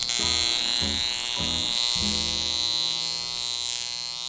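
A high-frequency facial wand buzzes against skin, a close, loud electric drone with pulsing, stuttering bursts early on that settle into a steady hum.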